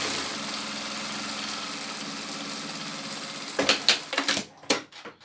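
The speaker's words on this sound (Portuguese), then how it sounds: "Com a minha costura, eu vou fazer um pé de máquina, tá? Retrocesso no começo e no final." A sewing machine stitches fabric scraps together for a rug, giving a steady mid-pitched motorized whir that runs continuously, then breaks into several short stop-start bursts near the end.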